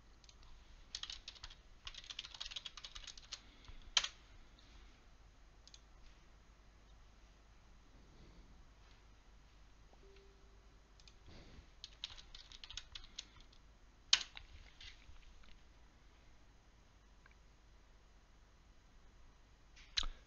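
Someone types on a computer keyboard in short clustered bursts of quiet key clicks separated by pauses, close and faint in a quiet room.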